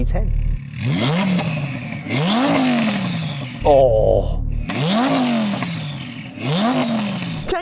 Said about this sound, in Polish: Usłyszmy twoje V10.